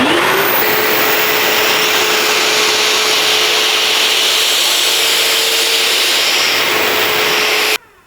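A V-Tuf Mighty XL M Class industrial wet and dry vacuum runs with a loud, steady whooshing roar and a faint constant whine, then cuts off abruptly near the end.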